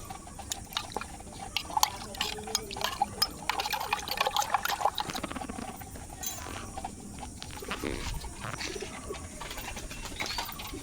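Water is poured into a container for pigeons, splashing and trickling among steady bird cooing and fluttering, with a busy outdoor bed of sound throughout.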